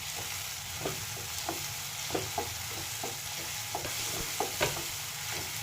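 Tomatoes and onion frying together in a pan for pav bhaji, a steady low sizzle broken by a series of soft scraping stirs, close and alone with no talking.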